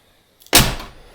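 A door popper actuator fires and kicks open a car's main door, giving a sudden sharp thunk and whoosh that fades quickly, heard close and alone.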